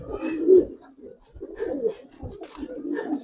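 Giribaz pigeons coo in soft, repeated low bursts, fairly close, with a few faint chirpy notes over a quiet background.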